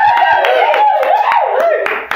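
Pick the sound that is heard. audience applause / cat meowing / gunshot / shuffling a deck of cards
audience applause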